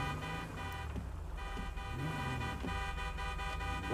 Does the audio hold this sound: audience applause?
no